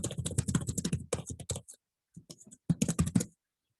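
Rapid keystrokes on a computer keyboard patter close and crisp in a dense run, pause briefly, then resume with a few more quick clicks.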